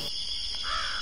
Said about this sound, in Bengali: একটা কাক ডাকছে যে।